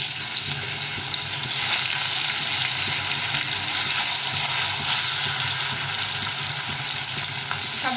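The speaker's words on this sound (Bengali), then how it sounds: "তেলটা গরম হয়ে গেছে, এখন মাছগুলোকে ভেজে নেব।" Fish frying in hot Fortune white oil, a dense, loud, continuous sizzle and crackle close up throughout, with no one speaking.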